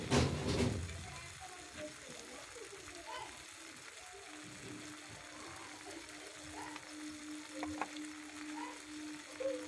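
Elephant apple pieces stirred in hot oil with salt and turmeric, a soft steady sizzle with scraping spoon strokes after a loud clatter at the start, plus a faint high tone.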